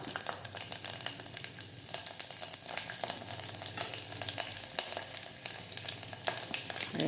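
Garlic, cumin and mustard seeds sizzle in hot oil in a pot for tomato dal, giving a steady, dense crackle with rapid popping spits throughout, close and moderately quiet.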